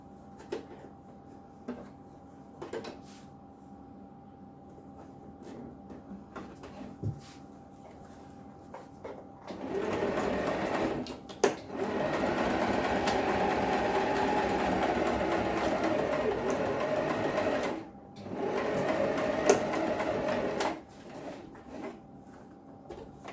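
A sewing machine stitches binding tape onto a carpet runner being made into a caravan carpet. After some quiet handling and rustling, it runs in a steady, close whir for several seconds, stops briefly, then runs again in a shorter burst.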